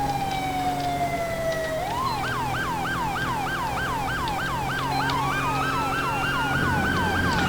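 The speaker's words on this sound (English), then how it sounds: "Cool thing is you can do the dual siren" A video game police siren sweeps down, then switches to a rapid yelping pattern, later layered with a second slow wail, loud and close over engine hum.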